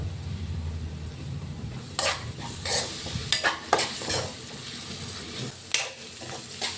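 A pan of frying onions is stirred, with several bursts of scraping strokes over a steady low sizzle, fairly close and moderately loud, with no talking.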